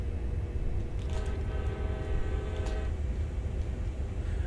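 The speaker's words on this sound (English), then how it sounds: "it wants me to pull up to a certain point and then reverse into a spur to pick up some boxcars" A simulated train in a train simulator game rumbles steadily with a low continuous drone, with a brief horn-like tonal sound rising in the middle as a locomotive prepares to reverse into a spur for boxcars.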